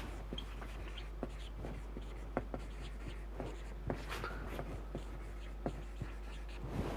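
Chalk or pen writing on a board or paper during a vector calculus lecture on divergence and curl identities, with scattered close taps and short strokes over a low steady hum, no talking.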